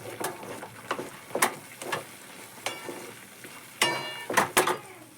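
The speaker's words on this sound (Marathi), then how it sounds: "पूर्ण असं हलवीत राहायचं." Semolina batter is stirred in a pan on the stove, the spoon scraping in short, irregular strokes over a soft sizzle.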